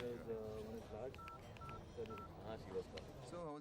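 Touch-tone keypad beeps from a phone being dialed, several short evenly pitched tones spaced about half a second apart, heard under overlapping talk and music.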